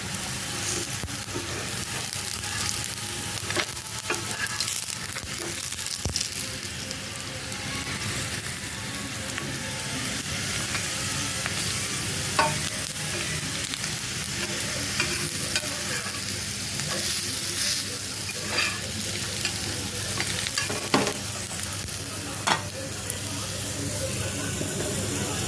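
A ragi snack cooks on a hot tawa with a steady close sizzle and occasional scraping or stirring clicks, continuous throughout with no talk.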